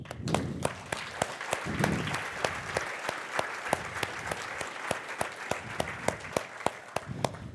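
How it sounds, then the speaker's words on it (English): A conference audience at DjangoCon applauds steadily for a sponsor, with dense, even clapping throughout, sharp individual claps standing out near the front. "We'd really like to give a round of applause to our platinum sponsor, 23andMe."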